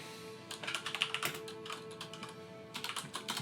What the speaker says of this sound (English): Typing in my notes.